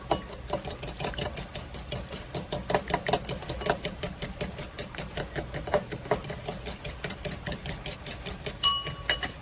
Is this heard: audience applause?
no